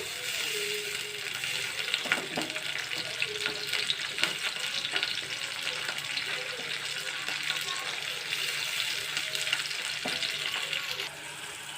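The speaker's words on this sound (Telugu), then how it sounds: "పచ్చిశనగపప్పును కూడా కాస్త ఫ్రై చేసుకున్నాము" Soaked chana dal frying in a pan with onions and green chillies for a bottle gourd curry, a continuous close sizzle with occasional stirring scrapes, steady and unbroken.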